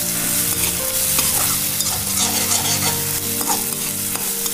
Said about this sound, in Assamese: আৰু পুনৰ ধুনীয়া এটা গোন্ধ অহালৈকে ভাজি লওঁ।